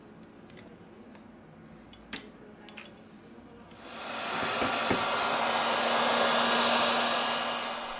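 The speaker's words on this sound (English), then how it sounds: "With the help of the heat gun, we apply 19 Celsius degrees during 4 minutes." A heat gun starts up and blows a steady loud whoosh of hot air onto a Blackview BV5000 phone during screen replacement, after a few light clicks from handling the device.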